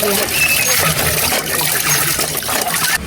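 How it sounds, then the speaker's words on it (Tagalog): Water runs hard from a tap in a steady, splashing hiss, heard close, with voices talking in the background. "Malakas po ang tubig."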